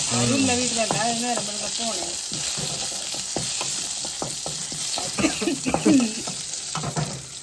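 Oil sizzles steadily in a hot pan while a utensil stirs and scrapes in repeated strokes; a voice speaks briefly at the start.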